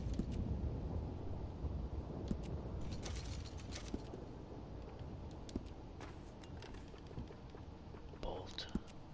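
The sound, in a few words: gun being cleaned and worked, Red Dead Redemption 2 video game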